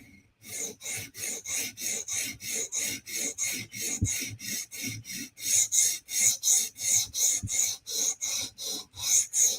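A Spyderco PM2 tanto knife blade is drawn repeatedly across a sharpening stone in steady, rhythmic rasping strokes, roughly three per second, close and dry, with the later strokes louder and brighter.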